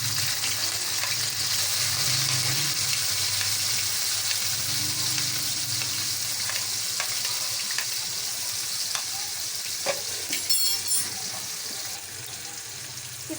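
Onions and cumin seeds frying in hot oil for a bottle gourd curry, a steady loud sizzle throughout with occasional scraping stirs near the end.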